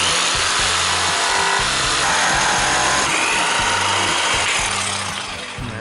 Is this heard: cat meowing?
no